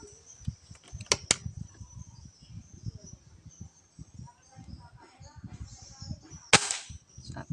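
Air rifle firing during a power test, with a few sharp cracks: two in quick succession early on and another near the end, over low murmuring voices and faint background hiss.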